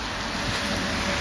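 Steady rain pours onto a London street in Shoreditch, a loud, dense hiss of drops hitting pavement with no break and no voices.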